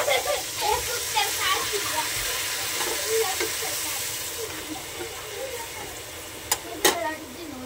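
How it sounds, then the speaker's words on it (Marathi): A little water goes into a pan of frying masala brinjal, setting off a steady hissing sizzle with bubbling, then a couple of sharp utensil clinks near the end. "त्यानंतर मी थोडंसं पाणी टाकते।"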